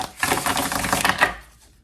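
A deck of tarot cards is shuffled close by, giving a dense, riffling patter of cards that lasts about a second and a half and then fades out.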